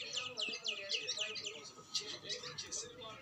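House sparrows chirp in rapid bright bursts, several birds close by, with a voice talking quietly underneath.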